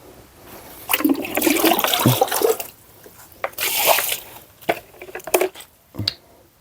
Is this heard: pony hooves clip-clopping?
no